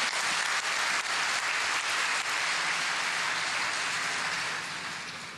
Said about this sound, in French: le maire de Dakar, très cher Khalifa Sall, qui mérite vos applaudissements.